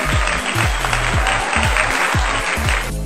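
A dense, loud round of applause plays alone for about three seconds as a sound effect, steady and full, with a faint rhythmic low thumping underneath.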